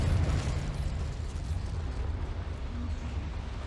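A Confringo blast curse goes off in Hogwarts Legacy with a loud, rumbling explosion whose low, booming roar fades slowly and steadily over a few seconds. No voices are heard.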